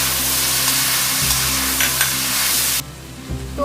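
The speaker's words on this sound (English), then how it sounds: "Just mix it all and saute well." Cauliflower florets and green peas sauteing in a pan, a loud steady sizzle with a few clanks from stirring before the frying noise drops off near the end.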